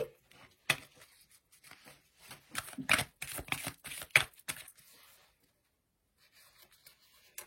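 Oracle cards being drawn and shuffled by hand, a close run of quick papery flicks, snaps and rustles of varying loudness, then tapering into near silence.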